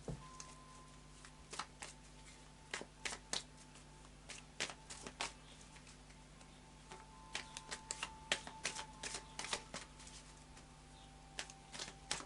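Light Seers Tarot cards shuffled by hand, sounding as quiet crisp snaps and riffles that come in irregular clusters over a faint steady hum.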